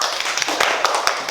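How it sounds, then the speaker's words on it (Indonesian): Classroom applause for a student group, a light scattered patter of hand claps from a small group, fairly close and brief. "kita beri aplaus dulu untuk kelompok 2"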